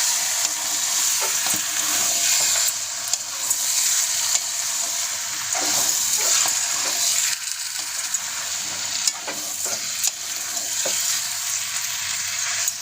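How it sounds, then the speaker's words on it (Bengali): Chicken and dal being stirred in a frying pan, a steady close sizzle with scraping spoon strokes throughout, no talk. "সুন্দর করে এবার আমি নেড়ে দেবো।"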